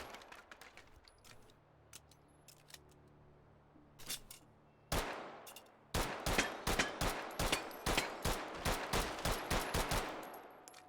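Gunshots in the VR shooting game H3VR: quiet handling clicks, a couple of isolated shots near four and five seconds, then a steady run of about a dozen sharp, evenly spaced shots, close and crisp.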